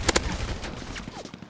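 Two sharp, loud gunshots crack at the start of this GTA roleplay video game exchange, followed by a few fainter, scattered pops in the distance.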